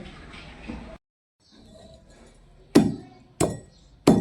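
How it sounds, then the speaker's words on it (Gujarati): Rock salt is pounded into powder. A soft grinding scrape is followed by three sharp, loud strikes about half a second apart, each ending in a brief ringing decay. "જો આવી રીતે આપણે બધા મીઠાનો ભૂકો કરી લેવાનો છે"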